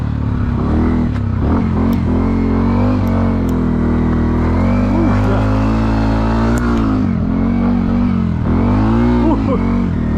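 A 2026 Yamaha WR125R motorcycle is ridden off-road, its engine droning loud and close and rising and falling in pitch as the rider works the throttle through the terrain.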